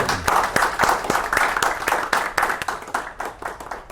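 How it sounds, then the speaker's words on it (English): A small audience claps for tech panel members at the close of a discussion event, a loose, uneven patter of individual hand claps, moderately near, with some faint voices mixed in. "Big round of applause for"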